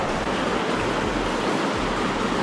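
A shallow river in Romania flowing in May, a continuous, close, even rush of water with a low churning undertone and no talking.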